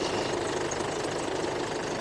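A 2007 Chevrolet Colorado 2.5 LS diesel pickup idles steadily up close, a low, even clattering hum with a faint rhythmic knock and no talk.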